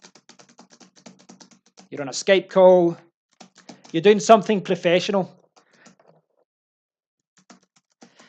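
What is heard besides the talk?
typing on a computer keyboard in the background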